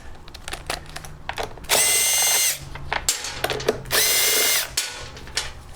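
A power tool whirs in two loud, sustained bursts while backing bolts out of a generator head, with clanks and handling noises between the runs.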